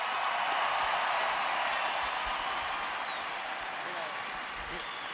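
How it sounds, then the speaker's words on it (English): A crowd applauds steadily at a bass fishing weigh-in at the 2013 Bassmaster Classic, a dense, sustained wash of clapping that stays loud throughout and eases slightly toward the end. "I would like one time for everybody to applaud for her"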